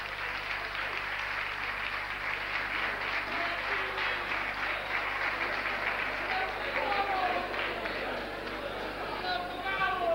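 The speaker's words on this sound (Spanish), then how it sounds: "Un fuerte aplauso para Chivi por haber venido otra vez" A studio audience at the Spanish TV game show Un, Dos, Tres breaks into sustained applause, dense clapping with crowd chatter mixed in.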